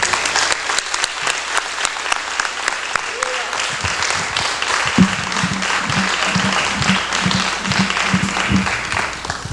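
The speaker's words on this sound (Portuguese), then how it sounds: "Vamos aplaudir o Senhor." Church congregation applauding steadily throughout, dense continuous clapping with a few louder claps and a low hum or voice underneath in the second half.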